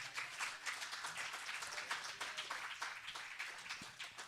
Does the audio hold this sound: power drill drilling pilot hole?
no